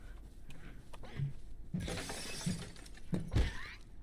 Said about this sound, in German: Jetzt hast du das Glas kaputt gemacht,